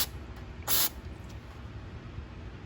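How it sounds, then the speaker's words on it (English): One short burst of carburetor cleaner sprayed onto a 2015 Yard Machine lawnmower's 163cc Briggs & Stratton engine, a sharp hiss lasting a fraction of a second against a quiet background. "So what we're going to do is spray carb spray there"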